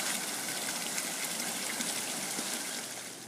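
Spring water flows from the Frederick Miller artesian well in Eden Prairie, a steady, close gushing stream that fades slightly at the end, with no voices.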